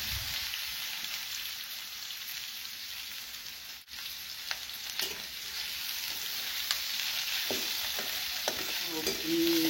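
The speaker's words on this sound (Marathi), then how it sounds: "कांदा परतावा लागतोय ना." Chopped onion sautés in a pan for a vegetable dish, a continuous close hissing sizzle with occasional soft stirring scrapes and small pops, no voices.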